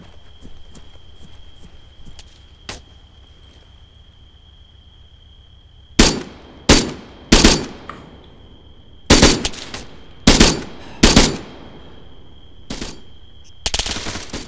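Gunfire in the military shooter ArmA 3: loud, sharp single shots and short bursts crack at irregular intervals over a steady background hum, each with a fading echo tail, with quieter distant shots early on.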